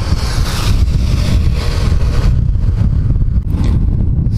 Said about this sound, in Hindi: अभी बाइक मिसिंग करने लग गया है, इसमें फ्यूल ऑलमोस्ट एंड हो चुका है